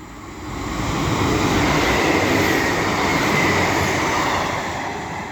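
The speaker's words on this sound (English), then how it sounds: "the next train to be coming through will be a pairing of sprinters running from Blackburn to Headbolt Lane" Two Sprinter passenger trains coupled together roll through Castleton station on a Blackburn to Headbolt Lane run, a steady loud rumble of wheels and carriages that swells and holds throughout, with no voices.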